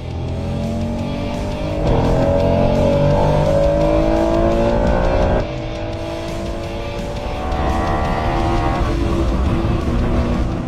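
A Honda NSX sports car engine drones steadily at close range with harmonic tones that rise and shift, and the engine note changes pitch a few times as the car drives.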